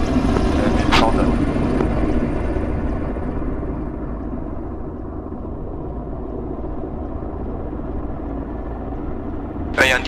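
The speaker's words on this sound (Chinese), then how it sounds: "遇到一台直升机，持续朝西方移动" Helicopter in the military game ArmA, a steady rotor and engine drone that holds across the whole stretch, fading slightly mid-way, with brief sharp bursts near the start and end and no talk.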